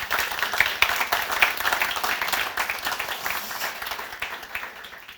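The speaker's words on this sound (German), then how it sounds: "Euer Applaus." An audience gives applause after a talk, a sustained patter of many hands clapping at moderate loudness that tapers slightly toward the end.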